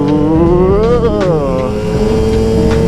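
A Yamaha YZ250 two-stroke dirt bike engine revs hard and loud up close, its pitch climbing and dropping as it shifts through gears, with a brief exclamation from the rider.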